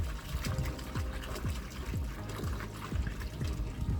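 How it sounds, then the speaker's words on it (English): Water is poured into a container holding a hydrogen peroxide bath with Atari 520ST plastic parts, making a close, steady trickle with repeated gurgling plops. "I'm going to add some water."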